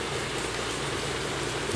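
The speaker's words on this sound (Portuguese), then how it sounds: "Ainda chove um pouco." Steady rain falling near a river in the Amazon town of Tonantins, forming a constant, even hiss with no break.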